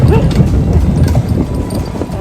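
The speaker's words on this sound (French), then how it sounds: "Il est quand même un bon cheval gentil." Horse hooves clip-clop steadily at a racing stable while a person talks over the hoofbeats, with continuous background noise throughout.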